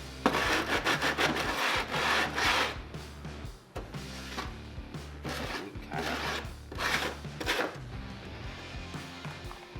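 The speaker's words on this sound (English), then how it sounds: "And I'm using 100 grit sandpaper, which I think should be good." Hand sanding the cut edge of trim on a Toyota 4Runner with 100 grit sandpaper, giving steady, rapid rasping back-and-forth strokes that stay loud and close for the whole stretch with no talking.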